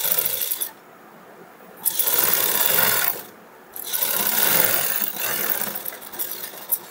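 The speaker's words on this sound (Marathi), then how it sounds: "अशा प्रकारे आपल्याला इथं शिलाई मारून घ्यायची आहे।" Sewing machine stitching a blouse neckline, running in a steady raspy whir that stops twice briefly and restarts, close and fairly loud with no talk over it.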